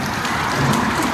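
Water poured onto the back of a Lexus RX 430h, a steady close splashing wash spread like heavy rain over metal, continuous and fairly loud with no voices.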